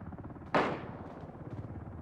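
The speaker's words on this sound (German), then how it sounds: "Oh, es wurde auf mich geschossen." A single sharp gunshot in the online battle-royale game Ring of Elysium, loud and close, cracking out over a steady background of game ambience and low rumble, then decaying quickly.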